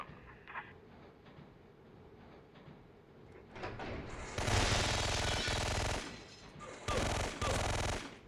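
Automatic gunfire in the video game Syphon Filter 3, during a train level, rattles out in two loud sustained bursts after a quieter stretch, with a short pause between them.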